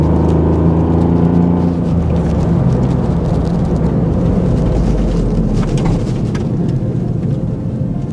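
A Ford Fiesta ST's three-cylinder engine droning low and steady while driving, heard from inside the cabin as a loud rumbling hum with road noise, no talk.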